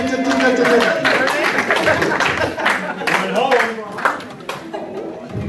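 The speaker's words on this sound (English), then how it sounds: "Everybody clap." Audience at a German carnival gala show claps along with dance music, rapid dense clapping mixed with speech and loud crowd noise throughout.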